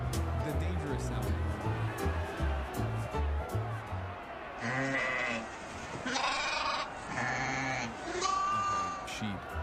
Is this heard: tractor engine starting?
no